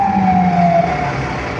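A loud ambulance siren wails continuously in New York City, its pitch sliding slowly downward, with traffic rumble underneath and no talking.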